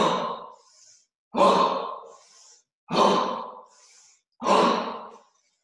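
Breaths during a dynamic yoga breathing exercise: four strong, evenly spaced exhalations like sighs, each followed by a softer breath, close and clear with no talking.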